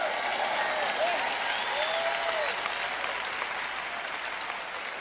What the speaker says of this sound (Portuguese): dê um grande aplauso ao meu Dave